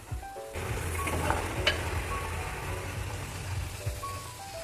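Chili and spice powders sizzle steadily in a hot pan for a prawn dish, a continuous close crackle with occasional stirring scrapes and no talk.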